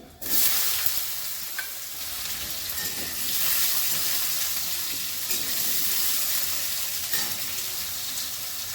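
Black cumin and panch phoron spices, potatoes and vegetables for a spinach curry sizzle in hot oil, a loud sudden burst of hissing and crackling that settles into a steady fry with occasional stirring knocks, no voices.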